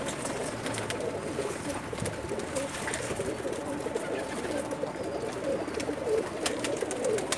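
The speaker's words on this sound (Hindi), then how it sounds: "ये लाखे कबूतर मैं आपको दिखा रहा हूँ" Lakha pigeons coo in a loft, soft repeated throaty calls from several birds overlapping at close range against a steady background hum.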